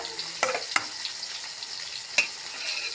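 Fish oil and potatoes fry in a pan, giving a soft continuous sizzle broken by a few sharp scraping stirs close by.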